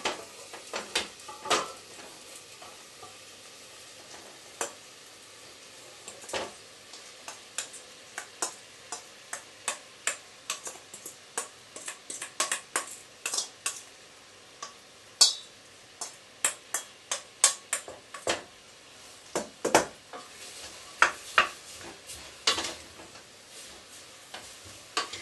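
Leeks cooking in a pan for leek and potato soup, with a faint steady sizzle beneath frequent sharp scrapes and taps of a spoon stirring against the pan, irregular and close, no talking.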